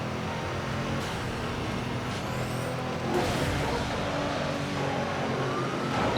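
Truck engine in the racing game Midnight Club 3, a steady low drone with traffic-like rumble and a brief swell midway, continuous throughout without talk.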